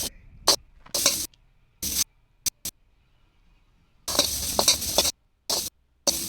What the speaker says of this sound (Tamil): அதை தட்டின பூண்டை அந்த வடைச்சட்டியில் போட்டு நல்லா செவக்க வறுத்துட்டு ஒரு பிளேட்டில் போட்டுக்கோங்க.